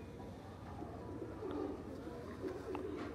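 Rare pigeons received as a gift coo in soft, repeated low calls close by, with faint background noise and a few small chirps.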